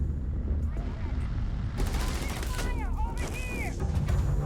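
Gunfire in the Starfield video game, a burst of sharp shots crackling over a steady low rumble, with chirping, sweeping synthetic effects and talk underneath.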